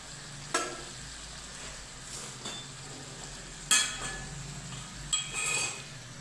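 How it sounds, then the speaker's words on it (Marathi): Brinjal frying in oil in a pan gives a steady low sizzle, with a few sharp clinks and scrapes of a spoon or utensil against the pan rising above it. "आता वांगे तेलामध्ये छान व्यवस्थित शिजलेले आहेत"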